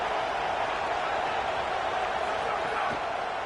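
Stadium crowd in an NCAA college football video game roars steadily as a third down approaches, a constant wash of cheering with a commentator talking over it.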